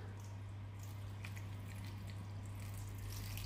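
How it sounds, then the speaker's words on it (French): Water running steadily from a tap into a cooking pan for fennel, a continuous close trickle and splash with some drips, no voices, under a low steady hum. "mettre de l'eau"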